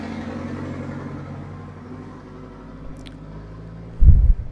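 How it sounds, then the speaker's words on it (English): A tractor rolls by close at hand outdoors, its engine a low, steady rumble that swells suddenly and loudly near the end of the pass. "Excuse me, tractor coming through."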